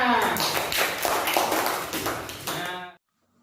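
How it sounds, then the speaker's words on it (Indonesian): A class of third-grade pupils claps hands together in a classroom, a dense, steady burst of many small hands that runs close and loud for about three seconds, then stops abruptly into silence. "tepuk tangan semuanya"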